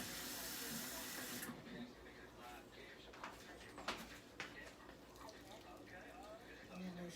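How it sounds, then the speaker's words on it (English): Water runs from a tap into a container, a steady close rushing that softens and becomes more irregular partway through, with small splashes and clinks. "I'm going to fill this up with water."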